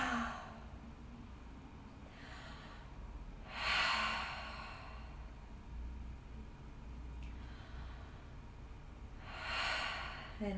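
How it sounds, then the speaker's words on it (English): Big expressive breaths out through the mouth during a restorative yoga session, heard as several long, airy exhalations spaced a few seconds apart over quiet background hiss. "Take another 5 big breaths here. Big expressive breaths through the mouth."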